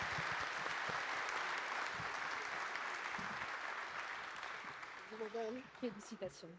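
Audience applause at a general assembly in honour of a first member from Morocco, dense steady clapping that gradually thins and fades, with a voice starting to speak over the tail end.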